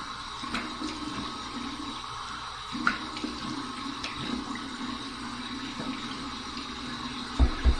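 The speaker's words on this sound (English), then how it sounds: "Here's my warm water rinse." Warm tap water running and splashing at a bathroom sink during a wet-shave rinse, a steady broad wash with a few brief louder splashes near the end.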